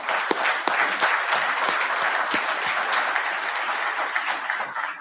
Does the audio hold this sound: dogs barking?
no